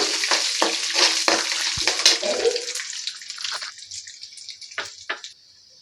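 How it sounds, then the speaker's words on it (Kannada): Asafoetida tempering in hot oil while making avarekalu chitranna: a loud, crackling sizzle with fine spattering and a few stirring clinks, easing off toward the end, alone without speech. "ಇಂಗು ಹಾಕಿದ್ದೀನಿ ನಾನೀಗ ಒಗ್ಗರಣೆಗೆ"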